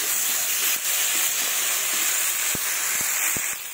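Masala for a duck egg curry sizzles and hisses in a pan while being sautéed, a steady close frying hiss with a few soft taps of stirring near the end.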